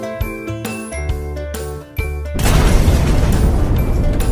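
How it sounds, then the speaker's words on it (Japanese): A cartoon bomb goes off in an animated Thomas-and-friends-style locomotive show: a few bright chiming jingle notes, then a sudden loud booming explosion that rumbles on with crackling noise. "ドカーンって爆発しちゃうんだよ。"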